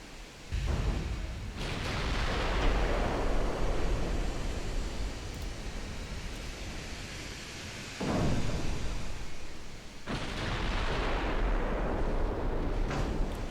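Rapid cannon fire with shell impacts in a tank combat video game: dense, sustained broadband rumble of continuous firing, with sharp bursts of fresh volleys near 0.5, 1.6, 8 and 10 seconds, loud throughout.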